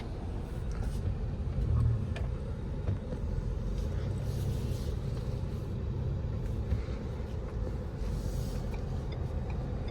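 A 2023 Ford Expedition Limited driving on the road, heard from inside the cabin as a low, steady engine and road rumble with faint tire hiss, moderately quiet and unbroken.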